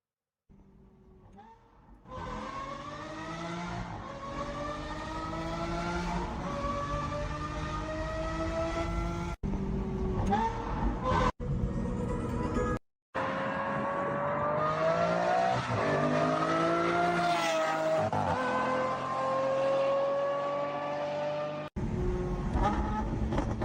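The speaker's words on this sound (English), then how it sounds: "this is what my car is going to sound like once I get the exhaust" A car engine revs repeatedly with a loud, rasping exhaust, the pitch climbing and falling through several pulls over about twenty seconds, with brief cut-outs between bursts.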